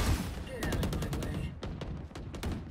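Vandal rifle fire in the game Valorant, a rapid burst of sharp cracking shots followed by a second quicker spray, loud and close with no voices over it.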